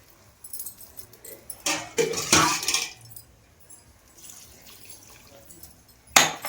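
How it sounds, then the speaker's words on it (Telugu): Water is poured into a pot of country chicken curry: a couple of short splashing bursts, close and moderately loud, with faint clinks of utensils in an otherwise quiet kitchen. "ఇప్పుడు మనం ఇందులో వాటర్ వేసుకుందాం"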